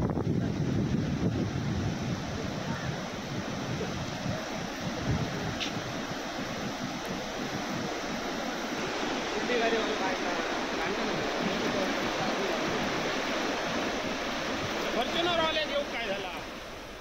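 Floodwater rushes over the submerged Amberi bridge in Konkan during heavy monsoon rain, a steady loud roaring wash with wind buffeting the microphone throughout.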